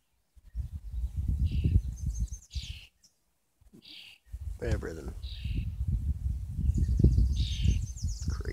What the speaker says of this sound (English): The birds you're hearing